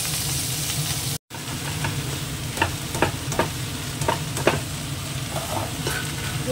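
Leafy greens stir-fried in a wok with green chillies give off a steady, close sizzle, broken by repeated scraping stir strokes, with no talking.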